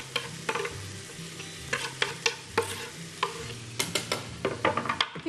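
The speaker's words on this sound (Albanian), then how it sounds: "dhe i kaurdisim në gjalp" Green onions stirred and sautéed in butter in a pan for an egg skillet dish, with a soft, steady sizzle broken by repeated sharp clicks of a utensil scraping and tapping; a low tonal hum runs underneath, and no one speaks.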